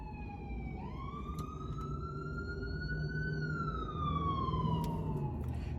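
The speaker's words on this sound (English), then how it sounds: "I'm talking about the ambulance making too much noise today" An ambulance siren wails as it passes, its pitch rising then sliding down, heard at moderate distance over steady street and traffic noise.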